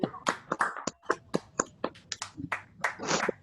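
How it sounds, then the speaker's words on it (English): Scattered, uneven claps from audience members joined over a Zoom call at a virtual stand-up comedy show, a loose patter of separate hand claps lasting several seconds with no voices over them. "Can we have another round of applause for all of our comedians and our audience members"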